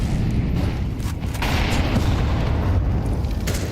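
Gunfire in a Counter-Strike 2 match on the Inferno map rattles through a dense, loud, continuous game soundscape, with the shots blended into a constant roar rather than standing out as sharp distinct cracks.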